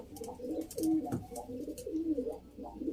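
An Arab bird cooing in soft, repeated low throaty coos, close by in a rhythmic series, offered for sale.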